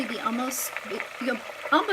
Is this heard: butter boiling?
yes